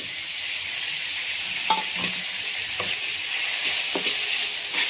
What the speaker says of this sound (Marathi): हिरवी मिरची दोन मिनिटापर्यंत फ्राय करायचं आपल्याला